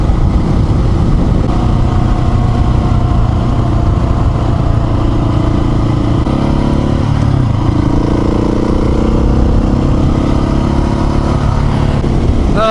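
A motorcycle rides along twisting country roads, its engine droning steadily and loudly, with wind rush and a slight shift in pitch partway through, and no talking.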